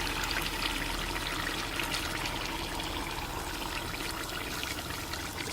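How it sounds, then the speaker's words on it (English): Boiling water pours into a fish-cooking container, making a continuous, soft splashing trickle that stays even and close for several seconds with no speech. "In this same container that I cook my fish from, I'll just add some boiling water."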